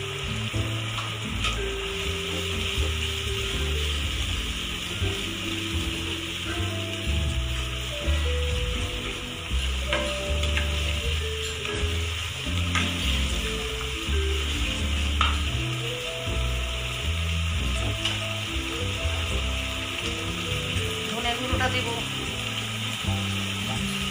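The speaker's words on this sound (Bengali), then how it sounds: "মশলাটাকে ভালো করে কষাতে হবে" Whole spices and Kashmiri chilli powder frying for a chicken curry in a pan give a steady close sizzle with scraping stirs, over a continuous background music bed with melodic notes.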